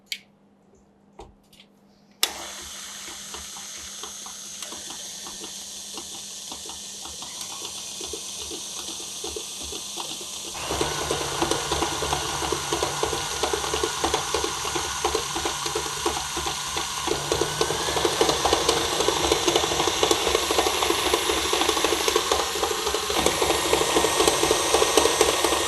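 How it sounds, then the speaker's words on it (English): An electric mixer beating butter and sugar for vanilla cupcakes starts after a brief click, a steady motor whir with rhythmic beater rattling in the bowl that grows louder and denser as speed rises partway through. "beat this on medium-high speed for about 5 minutes until the butter and the sugar becomes creamy"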